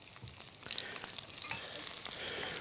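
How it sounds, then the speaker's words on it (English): Onions and green peppers, sweetened with a little brown sugar and salt, fry toward browning over a barbecue, making a continuous, fairly quiet sizzle with faint crackles and scrapes. "We should wait a little more for the onions to brown a bit."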